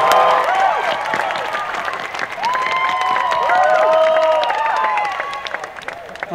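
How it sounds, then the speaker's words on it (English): A theatre audience at a London film event applauds actors Penélope Cruz and Antonio Banderas onto the stage, loud sustained clapping mixed with cheers and a few whistles rising throughout. "please welcome with a big applause to Penélope Cruz and Antonio Banderas."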